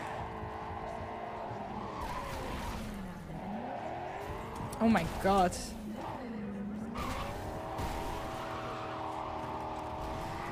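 Car skidding and crashing into a building in the video game Cyberpunk 2077, with sustained tire squeal and engine noise, a couple of sharp impact bursts midway, and a player's voice exclaiming over the din.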